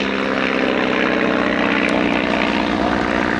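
A propeller-driven aircraft flown in an air show display by a pilot nearly 80, a loud, steady engine drone with a throbbing pulse and no pauses.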